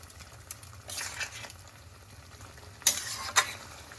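Papaya curry in a pan sizzles and bubbles softly, with a couple of stirring scrapes and a clink of utensils standing out briefly over the low simmer.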